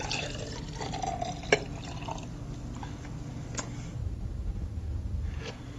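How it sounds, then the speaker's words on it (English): Juice pours into a glass with a faint, soft trickle and a few light drips, heard quietly over a low room hum. "Now we're going to pour this juice into this glass."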